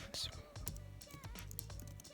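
Keys clatter on a Logitech MX Keys keyboard with a number pad, a quick run of soft close taps mixed in with a person talking throughout.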